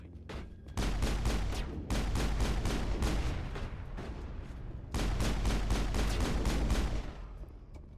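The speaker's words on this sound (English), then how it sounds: "you don't point blank blast somebody with the shot with a sniper rifle" Gunfire in the video game Mass Effect, close and loud: long stretches of rapid, dense shots in sustained bursts separated by brief gaps.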